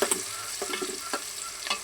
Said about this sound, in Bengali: আমি পোলাওয়ের জন্য আগে পেঁয়াজটা ব্রাস্তার মতো ভাজা নিতেছি